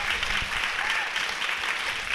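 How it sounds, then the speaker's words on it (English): Audience clapping at a book anniversary celebration for Sarah Waters's Tipping the Velvet, a steady, moderately loud round of applause from a seated crowd lasting a couple of seconds. "you can clap."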